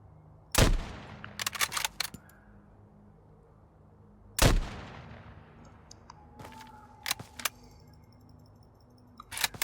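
Gunfire in the survival shooter game Road to Vostok: two loud, sharp single shots several seconds apart, followed by metallic clicks, rattles and a few quicker bursts of smaller cracks against a quiet background.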